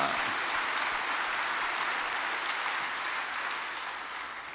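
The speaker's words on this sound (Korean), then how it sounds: "하나님께 영광의 큰 박수 합시다." A church congregation at an autumn revival service gives a big round of applause, a dense, steady wash of many hands clapping together that carries on without a break and eases slightly toward the end.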